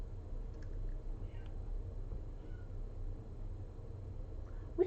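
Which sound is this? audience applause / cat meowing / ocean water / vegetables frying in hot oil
cat meowing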